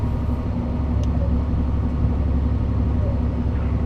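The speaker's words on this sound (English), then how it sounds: "Can you hear that cab noise?" Steady low rumble of an HGV truck cab while driving, a constant engine and road drone filling the cab at even loudness for the whole stretch, with no clear talk over it.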